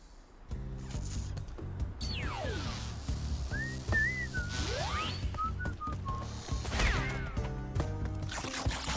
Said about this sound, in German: Entschuldigung fürs Pfeifen.